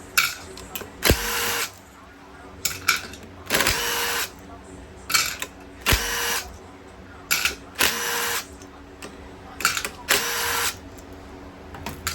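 Power tool fitted with a 10mm socket removes the clutch pressure plate bolts on a Honda CRF450X dirt bike, running in short loud whirring bursts about a second long, repeated roughly every two seconds.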